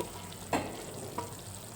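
Boiled, chopped potatoes drop into a pan of Bombay sagu and are stirred in, giving two short soft knocks over a steady low kitchen sizzle, with no voices.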